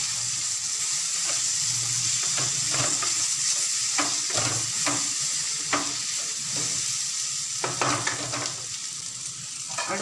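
Salted green plantain peel sautés in oil in a pan for a stir-fry, a continuous sizzle broken by repeated close scraping stirs of a spatula at an uneven rhythm.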